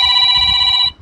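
A telephone rings with one short, bright electronic trill that stops abruptly, close and loud over a faint low background.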